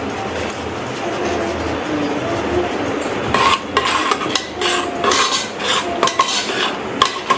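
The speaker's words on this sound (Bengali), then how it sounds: "মিক্স করে দিচ্ছি, আমাদের নুনটা দিয়ে দিচ্ছি।" A spoon scrapes and clinks against a pot as biryani ingredients are stirred together with salt, the stirring turning brisker and more metallic partway through, with no talking.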